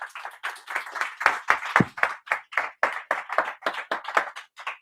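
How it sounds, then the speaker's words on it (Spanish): Applause from a small audience at a talk on working as an animator in a big studio, heard as distinct, fairly sparse hand claps in an uneven rhythm, close and moderately loud, with no voices. "Un fuerte aplauso, por favor."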